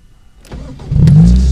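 A 2010 Morgan Plus 4 Tourer with a Ford 2-litre Duratec four-cylinder starts up: a short starter whirr, then the engine catches and settles into a loud, steady idle close by.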